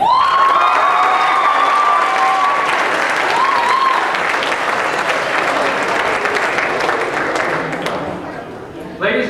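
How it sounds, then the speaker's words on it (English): A large crowd at a speech and debate awards ceremony applauds loudly and continuously, with cheering, whistles and shouting mixed into the dense clapping, which eases slightly near the end. "Applause for the parents."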